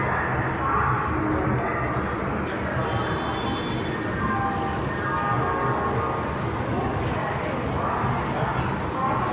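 A train passes near the Hooghly river, its steady, continuous rumble and rolling noise filling the whole stretch at a moderate, even level without letting up.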